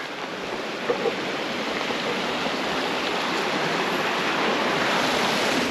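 Steady, broadband rush of a river flowing through old-growth forest at Hidden Creek in spotted owl habitat, a constant, close, unbroken wash of water with no voices.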